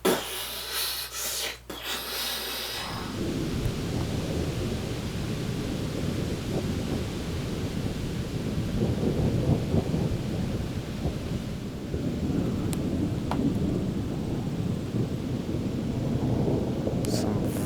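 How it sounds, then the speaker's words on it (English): Thunderstorm with long, grumbling rolls of thunder, a broad deep rumble that swells and lingers for many seconds after a brief noisy opening. "very grumbly clouds right now. There's a big storm coming through."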